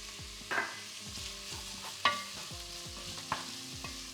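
Translucent onions and freshly added garlic fry in a pan for a vegetarian lasagne, with a steady close sizzle and a few sharp scraping stirs standing out at intervals over a low background hum.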